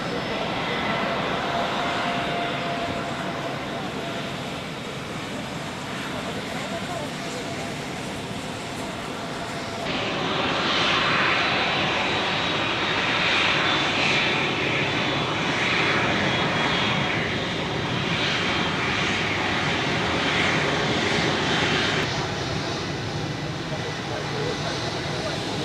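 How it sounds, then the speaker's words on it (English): A Bombardier Global business jet taxiing at Zurich Airport produces a loud, steady engine roar and whine that brightens and swells partway through, heard close and continuous without speech. "That's something very typical for those Bombardier Globals."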